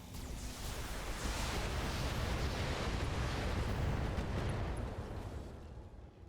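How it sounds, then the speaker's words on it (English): Massed weapons fire in the Thorium Mercs video game rolls on as a sustained, dense roar of blasts and rumbling, fairly distant and steady throughout, fading slightly at the end. "All weapons locked on and firing."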